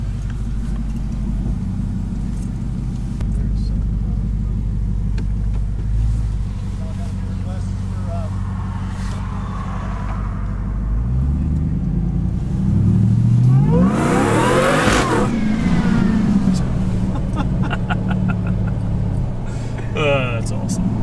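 An 840hp Demon-swapped Jeep Gladiator with a supercharger idles and then revs hard, its engine rumbling loud and close with a rising whine at the peak, while people talk over it.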